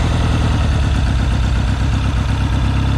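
An engine idles loudly up close with a low, rapid, even chugging rhythm that stays steady throughout.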